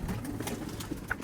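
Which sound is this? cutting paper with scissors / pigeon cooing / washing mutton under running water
pigeon cooing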